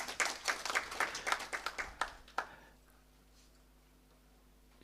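Audience applause at a climate justice summer school in Nairobi, a burst of fairly close clapping with distinct individual hand claps that fades out after about two and a half seconds, leaving a quiet room.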